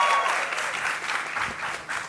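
Live audience at a panel event with streaming-show actors cheers and claps in a steady, dense burst of applause lasting the whole moment, close and loud with no talking over it.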